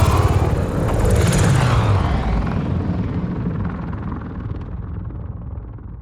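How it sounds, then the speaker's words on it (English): Helicopter gunships from the video game Marvel's Spider-Man 2 roar past loudly with a heavy rotor rumble and engine whine, the sound gradually fading as they move away. "The gunships speed toward the New York City skyline."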